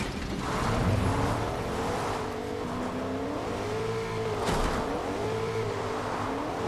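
Car driving in Fortnite, a continuous close engine drone that rises and falls in pitch as it speeds up and eases off, running the whole time with no voices.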